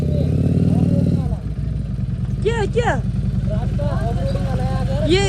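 A motorcycle engine runs steadily beneath close, continuous talk as the bike rides past, its low droning hum holding the whole time.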